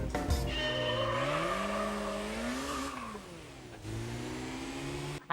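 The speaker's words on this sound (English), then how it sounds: "The revs have to go hit and then go increase." Car engine revving in Gran Turismo 3 on PS2, rising and falling pitch through gear changes with a brief dip near the end, steady and loud throughout with no talking.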